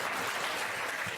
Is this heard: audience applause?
yes